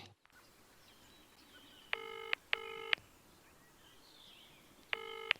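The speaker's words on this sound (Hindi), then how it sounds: "फोन करता हूं उसे।" Several short bursts of electronic tones, like a phone dialing or ringing, repeat at intervals over a faint background hiss.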